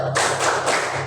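Children in a sixth-grade classroom clap together in applause, a short dense burst of hand claps at close range lasting about a second.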